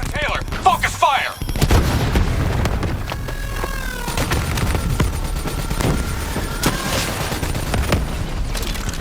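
Gunfire in the Call of Duty Black Ops 3 campaign, a steady barrage of rapid automatic shots and booming impacts, with scattered electronic effects and voices in the mix throughout.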